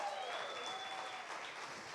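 A church congregation claps steadily for about two seconds, a dense even patter of many hands filling a large room, with a faint sustained tone carrying over the applause.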